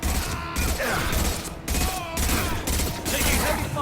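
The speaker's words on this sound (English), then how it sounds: "Taking heavy fire!" Sustained rapid gunfire from the video game Mass Effect Legendary Edition rattles in dense bursts with brief gaps, loud and close, over a busy battle mix with no clear talking.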